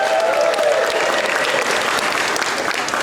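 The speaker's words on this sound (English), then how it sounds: "Give yourselves a round of applause." Audience applause in an indoor room at a Six Flags Over Texas announcement event, a dense, steady wash of many hands clapping close by, sustained and loud for the whole stretch with a faint voice briefly audible early on.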